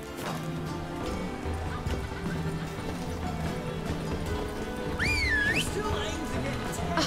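A horse in the video game Witcher 3 clip-clops steadily over a game soundscape, with a whistle or whinny-like sweep near the end.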